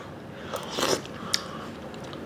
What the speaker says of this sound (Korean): 그 매운탕은 어떤 맛인지 먹어보겠습니다